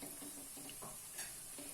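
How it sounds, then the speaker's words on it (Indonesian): Kue timus cakes fry in hot oil in a pan, giving a steady close sizzle with faint scraping as they are turned. "Ini kita goreng sampai berwarna coklat."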